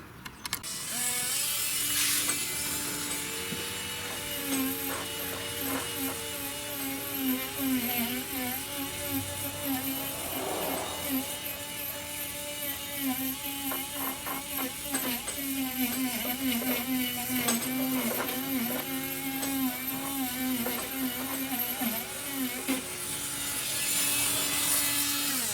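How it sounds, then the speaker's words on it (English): A Dremel rotary tool with a small wire brush scrubs crud off a part of a 2015 Ford Focus ST engine, a continuous buzzing whir with varying pitch that runs steadily for about 25 seconds, close up and loud. "I was able to get a wire brush, a little brush like this on my Dremel, and clean that off"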